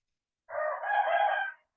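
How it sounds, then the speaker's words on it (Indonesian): A single rooster crows once in the early morning, a clear, close cock-a-doodle-doo lasting about a second, standing alone against silence. "Saya ada suara ayam ya, karena ini masih pagi hari recordnya"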